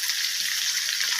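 Onions sizzling in a pan for paneer biryani, a brief bright crackle of hot oil, steady and close.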